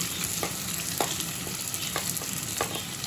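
Two onions frying in a hot pan for a homemade cheesy pizza, with a steady close sizzle and crackle broken by a few sharp stirring scrapes and no talking.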